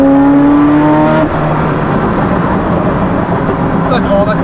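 Ferrari F40 engine revving hard from inside the car, a loud rising roar that drops into a rough, vibrating drone, with people talking over it.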